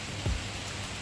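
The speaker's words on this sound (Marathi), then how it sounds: "हे बघा पाऊस" Steady rain falls outdoors as an even, hissing wash of noise throughout the brief moment, with one small low thump partway through.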